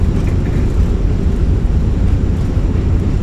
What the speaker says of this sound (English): Reversers are out. Decelerating.